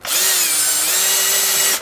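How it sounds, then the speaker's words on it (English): A power drill whines loudly at a steady pitch for a couple of seconds, close up, drilling through plastic for a gutter spout install, then spins down. "take your drill and just very slightly"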